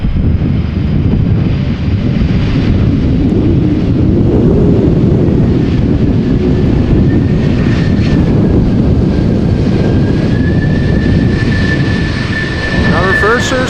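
A Turkish Airlines airliner arriving from Istanbul lands at Amsterdam Schiphol in gusty crosswind, its engines roaring in a loud, steady rush of thrust-reverser noise heavily buffeted by wind on the microphone.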